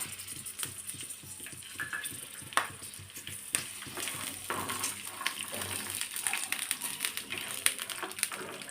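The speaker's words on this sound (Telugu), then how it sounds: "ఇవి బాగా మంచిగా సిమ్లో పెట్టుకొని ఫ్రై చేసుకోవాలి" Green chillies and peanuts fry in oil over a low flame, giving a continuous soft sizzle with frequent spatter pops and occasional stirring clinks, near and fairly quiet, without speech.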